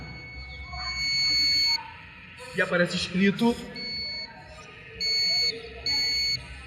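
Electronic buzzer on a programmable toy giving several short steady beeps, mid-loud, with people talking over and between them.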